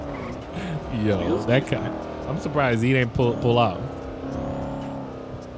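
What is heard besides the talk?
car burnout with tire squeal in GTA 5 video game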